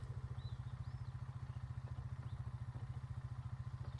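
A vehicle engine in the game Arma 3 Antistasi idles with a quiet, even, rapid chugging pulse that holds steady for several seconds.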